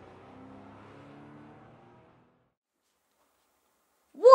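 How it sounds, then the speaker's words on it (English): A car engine from a racing video game hums and revs steadily for about two seconds, then cuts to silence before a short, brighter burst at the very end. "Is this a car video game?"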